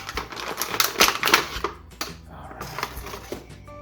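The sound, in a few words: knife cutting hard plastic of toy figure packaging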